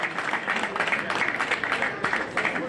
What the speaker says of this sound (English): Please, an applause for him.